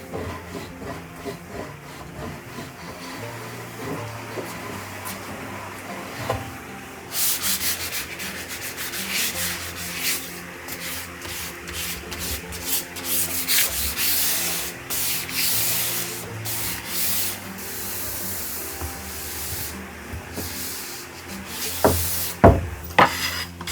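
Wooden countertop edges are sanded in a long, close rubbing hiss, with steady back-and-forth strokes that grow brighter and rougher midway, and no voices.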